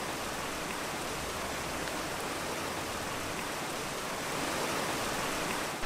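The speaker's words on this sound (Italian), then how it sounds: "ci porterà alle cascate dell'Acqua Fragia situate in Valchiavenna" The Acqua Fraggia waterfall in Valchiavenna roars with a dense, steady wash of falling water that fills the whole clip without a break.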